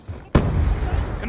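A frag grenade explodes in Call of Duty Black Ops 2 on the Overflow map: a single sudden, loud blast followed by a rumbling decay lasting about a second.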